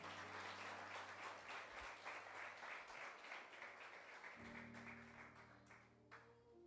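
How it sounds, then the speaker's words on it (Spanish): Church congregation applauding during a service, a sustained, faint crowd of clapping with sustained organ or keyboard tones underneath that change partway through. "Dale un aplauso al Señor."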